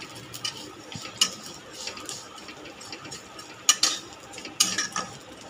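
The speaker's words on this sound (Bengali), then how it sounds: "এটাকে হালকা ভেজে নেবো এখন।" Vermicelli lightly frying in a pan while being stirred, with scattered scraping clicks of a utensil against the metal over a soft background crackle, several sharper scrapes standing out near the end.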